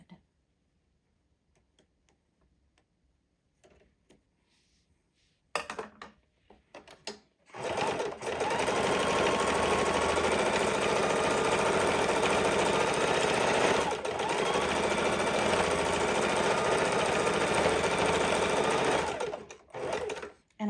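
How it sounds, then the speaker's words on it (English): After some quiet handling, a sewing machine runs in one long, loud, continuous stretch while stitching back and forth over a fidget quilt seam, then stops near the end. "again, I just sewed over that a few times, making sure it's very, very secure"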